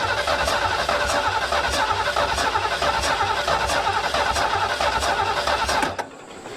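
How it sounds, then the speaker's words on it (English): A 1973 Ford Mustang Mach 1 engine cranks over steadily with a rhythmic whirring from the starter motor, close and loud, then cuts off abruptly near the end without firing. "let's crank her over and see if she'll fire up and run."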